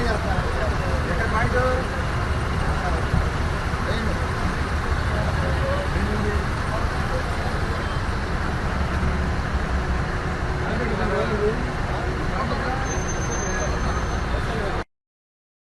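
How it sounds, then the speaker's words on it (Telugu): Heavy, stalled traffic on a national highway near Gannavaram village, a dense, steady roadway rumble of many vehicles running throughout, with voices faintly mixed in. "గన్నవరం గ్రామం సమీపంలోని జాతీయ రహదారిపై భారీగా బుధవారం వాహనాలు నిలిచిపోయాయి."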